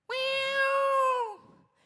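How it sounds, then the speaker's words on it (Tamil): A pet cat lets out one long, loud, clear meow lasting about a second, followed by a faint trailing murmur. "இப்ப பாருங்க சார், என்னோட பூனையோட சவுண்ட."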